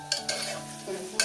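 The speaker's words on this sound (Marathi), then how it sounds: "कांदा परतला गेलाय" Onions sautéing in a pan for Parsi green masala mutton keema, a soft continuous sizzle with a few brief scraping stirs, close but quiet.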